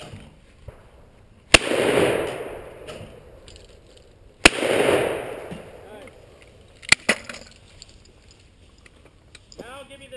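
Two sharp shotgun blasts fired as a report pair at clay targets at a gun club, each followed by a rolling echo, then a smaller crack and some clatter afterward.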